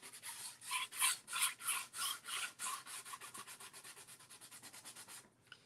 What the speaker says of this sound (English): this is a fine grit sandpaper. I just want to kind of smooth out any rough spots